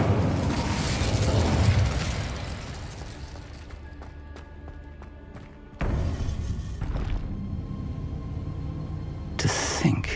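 An Incendio fire spell is cast in the Hogwarts Legacy video game, a loud burst and rumbling whoosh at the start, then ringing game effects, a second thumping burst midway and another near the end.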